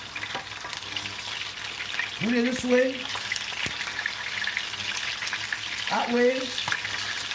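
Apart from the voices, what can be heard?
greens for stew green sealing and sizzling in a pan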